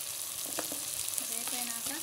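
Chopped onion and green chilies sizzle in a pan for a bhindi pulusu. The frying hiss is steady and close, with a few light stirring scrapes and no talking.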